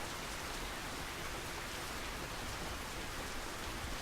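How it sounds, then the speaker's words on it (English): Steady rainfall in the fishing game Russian Fishing 4 at Mosquito Lake, an even, dense hiss of drops on the surface that holds at a constant level throughout with no voices. "Rain makes you sleepy."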